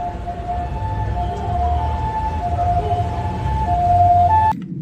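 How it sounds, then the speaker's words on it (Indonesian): A toy ambulance plays a close, loud electronic siren, a steady wavering tone that stops abruptly near the end. "Wih, mobil ambulan, teman-teman."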